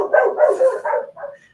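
A pet dog barks close and loud indoors in a quick burst of several yapping barks, trailing off into a softer whine, with no talking.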